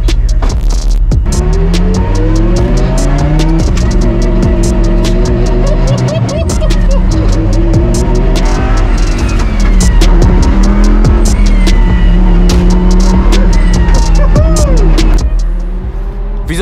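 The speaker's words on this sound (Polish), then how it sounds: "Patryk już jest w Lamborghini Super Trofeo Evo 2" Lamborghini Super Trofeo Evo 2 race car engine, loud and close, revving steadily with rising and falling pitch sweeps for the whole stretch, with voices faintly underneath.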